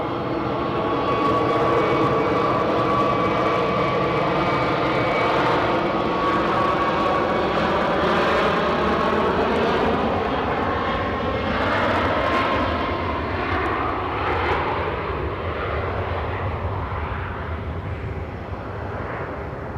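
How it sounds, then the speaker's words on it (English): A Ryanair airliner from Naples arrives at Edinburgh airport with a loud, sustained jet roar that swells and then gradually fades as the aircraft passes, with no voices over it. "We have Ryanair from Naples just about coming in now."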